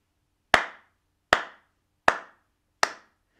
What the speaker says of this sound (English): I want us to clap the rhythm of four cats.